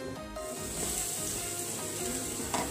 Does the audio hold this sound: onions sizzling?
yes